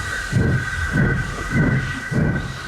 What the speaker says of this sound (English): With a blast of his whistle, he went to fetch his return train.